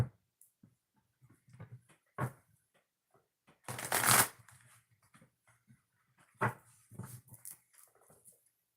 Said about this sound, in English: I'm going to shuffle the deck and then we'll get started.